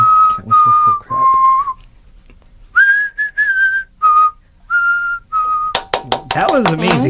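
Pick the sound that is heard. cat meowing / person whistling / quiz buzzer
person whistling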